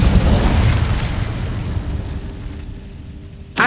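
A fire spell cast in the Hogwarts Legacy video game, heard as a loud sustained whooshing blast that decays over several seconds, then a sharp burst near the end; no talk.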